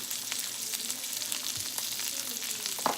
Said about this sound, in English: You want to hear that sizzling? Hear it?